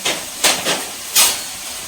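Steam jets from a pressure cooker while dal cooks: four separate loud hissing bursts, close by, in an irregular rhythm, with no talk over them.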